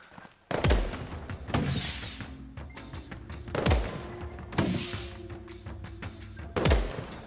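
Video-game fireworks bursting in the VR multiplayer game UG, five sharp booms at irregular intervals, each followed by a crackling, hissing tail, loud and near with no talking.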